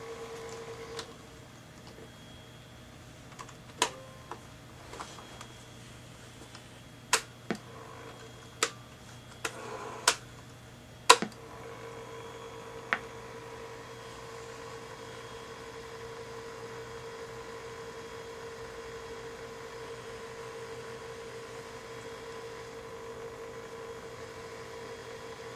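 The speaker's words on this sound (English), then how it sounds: "This thing is a noisy motor." A tape recorder's noisy motor gives a steady low hum and whir throughout, with a cluster of sharp mechanical clicks and clacks in the first half before the drone carries on alone.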